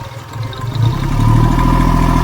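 Freshly overhauled Hyundai Grand i10 engine given a light touch of throttle, its steady mid-pitched hum rising and holding at a slightly higher, louder drone, close by with no talk.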